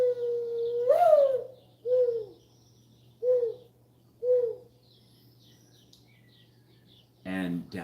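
Pigeons cooing nearby on a rainy day, four or five separate soft low coos spaced a second apart over a faint steady hum, then a brief sharper sound at the end.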